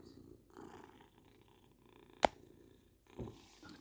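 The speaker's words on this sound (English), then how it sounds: "Listen to her purring, guys." A British Shorthair cat purring softly and close by, a low steady rumble with one sharp click partway through and a brief thump near the end, with no talking over it.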